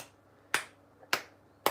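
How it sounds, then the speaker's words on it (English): Three sharp, bright hand claps spaced about half a second apart, close and crisp in a quiet room with short decays. "stretch them out in front of you and clap"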